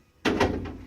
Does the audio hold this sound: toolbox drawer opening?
yes